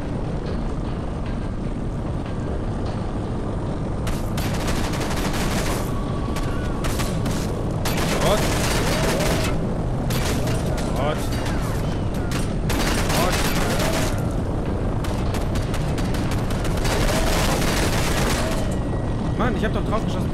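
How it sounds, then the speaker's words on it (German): Bursts of gunfire from the shooter game Condemned 2: Bloodshot, aimed at a helicopter, come in repeated volleys over a steady loud mechanical drone, with someone talking now and then. "Ich hab doch drauf geschossen, wie sonst immer auch."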